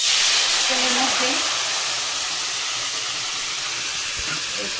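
Ingredients for steamed hilsa fish hit hot oil and sizzle in a loud, steady, close hiss that holds for several seconds, with faint voices and clatter underneath.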